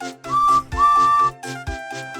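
Steam engine whistle in the Roblox game Three Railway Engines, sounding as two clear, steady toots of moderate loudness separated by a short gap, with a third fainter tone trailing off at the end, no talking.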